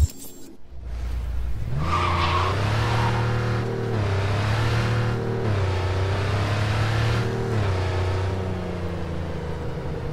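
A car in Cyberpunk driving with engine revving through shifting gears and tires skidding, a steady loud engine drone that rises and falls with squealing tires, no talk.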